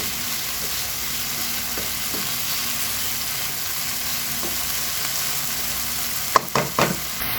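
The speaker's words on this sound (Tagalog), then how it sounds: "Lumalambot na yung kamatis. Kaya, sabayan ko ng durugin." Tomatoes sizzle steadily in a frying pan, a constant close hiss of frying with occasional soft scrapes and taps of a utensil crushing them, ending with a few louder clatters.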